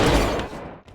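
A sniper rifle headshot in Unreal Tournament, one sharp, loud, close crack with a quickly fading tail, then a brief faint click.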